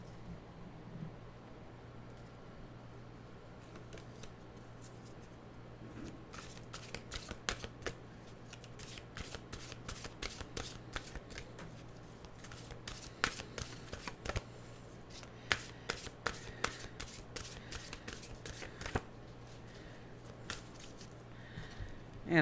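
A deck of mantra cards being shuffled in a quiet room, giving a long run of soft, rapid riffling clicks that grow denser and louder in the second half, over a steady low hum, with no talking.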